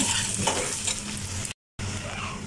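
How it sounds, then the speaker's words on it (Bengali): Onions frying in a pan with chicken, a close, continuous sizzle with stirring scrapes, briefly cut by a moment of total silence before the sizzling resumes, no talking. "তো এখন ভালো করে ভাজি করে নেব।"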